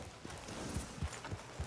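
Horse hooves in Red Dead Redemption 2 clip-clop in a slow, even walking rhythm, about five soft thuds over steady outdoor ambience, fairly faint and with no talk.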